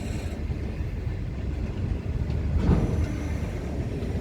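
A long freight train passing in Australia, with a steady, loud rumble of wagons rolling by and faint clicking of wheels over rail joints, swelling slightly midway.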